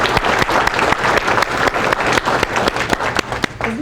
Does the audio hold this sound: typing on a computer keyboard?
no